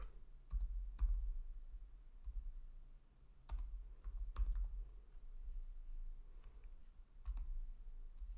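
A computer keyboard clicks in short bursts of keystrokes with pauses between them, close and fairly quiet, as a command is typed, with no talking.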